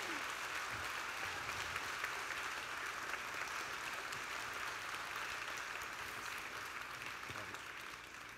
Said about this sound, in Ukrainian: Давайте ще раз її аплодуємо.